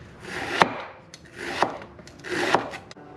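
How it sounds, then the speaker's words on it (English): A knife loosely slicing vegetables into rings on a wooden board, three slow rasping strokes about a second apart, each ending in a soft knock on the wood, close and fairly quiet. "to loosely slice these into whatever rings I've got left over from the cheek that I cut out"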